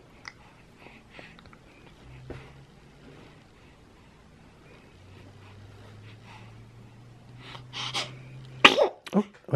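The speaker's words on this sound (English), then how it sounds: "Oh, and a sneeze." After a quiet stretch of a baby's soft breathing and faint movement, a small sharp sneeze bursts out near the end, close and fairly loud.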